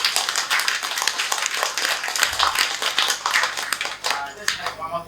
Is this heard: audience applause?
yes